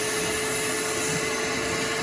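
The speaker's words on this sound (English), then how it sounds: "You're using the brush to loosen, and then it's got a little vacuum right here." A BISSELL Little Green portable spot and stain cleaner brushes and vacuums carpet, its loud, steady motor whine continuous and close with no talk.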